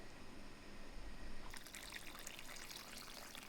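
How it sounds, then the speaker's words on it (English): Water is poured into a pot of homemade chicken broth on the stove, a faint, close trickle and splash that starts about halfway through and continues steadily. "I'm going to add some water so that this broth doesn't dry out."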